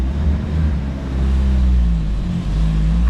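A 1986 Plymouth Voyager with a 2.2 liter engine runs on a dyno pull, a loud, low, droning engine note that swells and wavers slightly throughout, with no voices.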